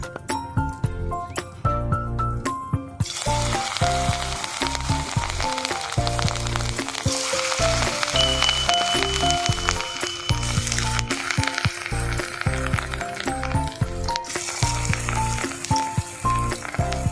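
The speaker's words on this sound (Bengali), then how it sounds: "দুই দিকে লাল লাল করে ভেজে নিয়েছি" Pumpkin leaf fritters fry in hot oil for a village-style recipe, giving a steady, dense sizzle that runs unbroken throughout, mixed with strong tonal layers that sound like backing music.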